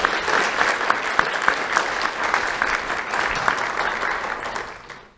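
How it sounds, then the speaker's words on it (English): An audience at a Lee County Sheriff's Office Do The Right Thing awards ceremony claps loudly and continuously. The dense, close round of applause holds for about five seconds before cutting off. "Let's have a round of applause for Damoni Glover."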